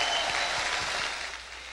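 Church congregation at a baptism testimony service clapping together in a full, continuous wash of applause that eases slightly toward the end of the short burst.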